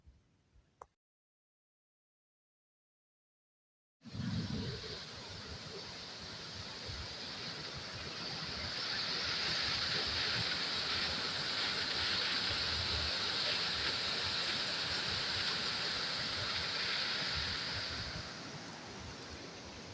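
A small mountain waterfall on a hike to the Plomb du Cantal: after a few seconds of silence, a steady, full rushing of water starts abruptly and swells slightly louder, continuous and alone.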